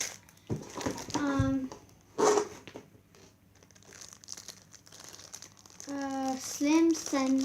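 Close crinkling and rustling of plastic packaging as a Babyliss Turbo Power 2200 hairdryer is unpacked, in short bursts with pauses, while someone speaks between and over the handling noises.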